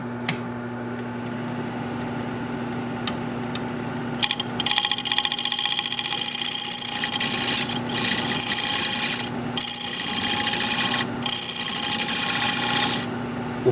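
A lathe gouge cuts into spinning wood on the leg of a four-legged square bowl, a loud, rough scraping hiss that starts after a low steady hum and continues with several brief breaks.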